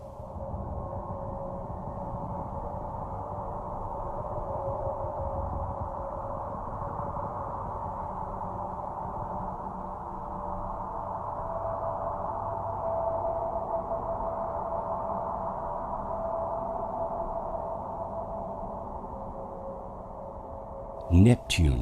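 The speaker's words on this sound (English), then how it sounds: "Jupiter's magnetic field hisses and sighs." A radio recording of Jupiter's magnetic field: a steady, muffled hissing drone with a faint sustained tone, rising and falling gently for about twenty seconds before a few sharp clicks at the end.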